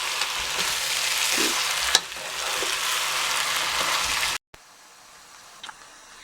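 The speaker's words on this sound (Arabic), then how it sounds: "لازم نقلب كده ونشوح البصله مع اللحمه" Onion and meat sizzle steadily while being stirred in a pan for a stew of meat, onion and vegetables, with scraping clinks of the spoon. After a brief cut the sizzle continues much more faintly.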